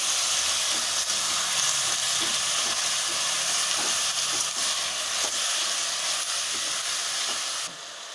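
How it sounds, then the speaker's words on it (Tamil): Chicken pieces sautéing in hot oil for a Tamil-style chicken kurma, giving a steady, loud, continuous sizzle with faint stirring scrapes, and no talking. "சிக்கன் சேர்த்ததுக்கப்புறம் நல்லா அந்த எண்ணெயில் கலந்து விடுங்க. அப்போ தான் உங்களுக்கு அந்த சிக்கன் எண்ணெயிலே கொஞ்சம் வதங்கும்."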